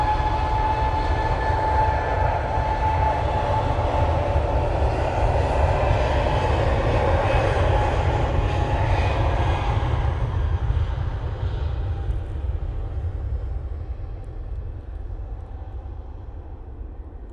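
Swiss Airbus A320neo bound for Zurich on its takeoff roll at a windy Manchester Airport, a deep, steady jet-engine roar with a low rumble that stays loud, then gradually fades as the aircraft moves away.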